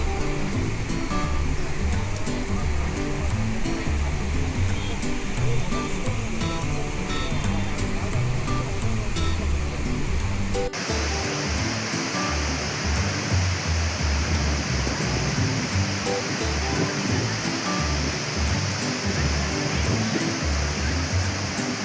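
Bogatha waterfall in Mulugu district, swollen after heavy rains, roars loudly and steadily as a dense, unbroken rush of water. The tone shifts abruptly halfway through as if the listening spot changes, and no voices are heard.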